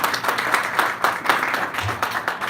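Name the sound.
audience applause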